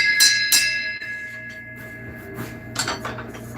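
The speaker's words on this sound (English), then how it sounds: "And ring some bells." Bells ring in a backyard pub shed, a few bright metallic strikes that ring out and decay, fairly close, with faint clatter between.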